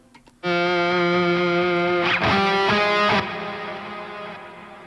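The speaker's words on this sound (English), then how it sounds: "having the delay feedback match the reverb length so that they kind of fade out around the same time" A distorted electric guitar chord on a cheap guitar rings out, struck again a few times, then fades away through delay repeats and reverb tail, the delay feedback matched to the reverb length.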